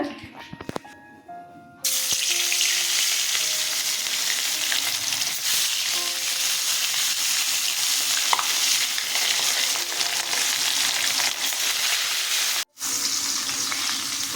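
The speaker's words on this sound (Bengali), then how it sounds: "মাছগুলো ভাজা হয়ে গেছে" After a short quiet start, loud continuous sizzling of katla fish frying in hot oil fills the rest, briefly cutting out once near the end.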